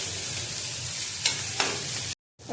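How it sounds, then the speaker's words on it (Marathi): Ghati masala chutney paste fries in oil for a Karad-Satara style vegetable dish, giving a soft, steady sizzle with two sharp stirring scrapes. It cuts off briefly near the end. "तेलात चांगलं परत भाजून घ्यायचं आहे."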